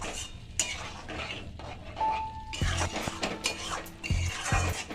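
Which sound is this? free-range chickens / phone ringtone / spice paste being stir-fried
spice paste being stir-fried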